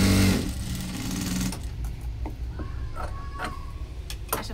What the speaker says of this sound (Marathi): आता आपण डबल शिलाई मारून घेणार आहे.